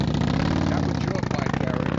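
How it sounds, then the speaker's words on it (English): Harley-Davidson motorcycle engine idling close by, a steady, loud, lumpy rumble that fills the whole moment without a break. "That was your bike, Eric."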